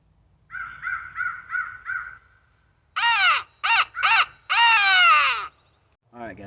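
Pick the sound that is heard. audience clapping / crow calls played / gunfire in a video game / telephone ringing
crow calls played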